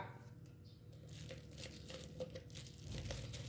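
Aluminium foil crinkles and rustles as it is wrapped around a plastic ice cup, a quiet, irregular run of close crackles and soft crumpling with no talking.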